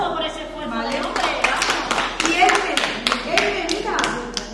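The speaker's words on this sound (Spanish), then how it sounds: "Un aplauso por ese esfuerzo" Schoolchildren clap for a classmate during a museum visit, a scattered, uneven burst of small hands running steadily under an adult's voice and children's chatter.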